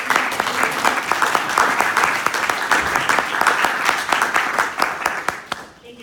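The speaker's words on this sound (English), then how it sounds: "Let's all acknowledge and admire the work and give him a round of applause." Audience at a congressional briefing on Kremlin political prisoners gives a round of applause, a dense, steady burst of many hands clapping for about six seconds before fading out.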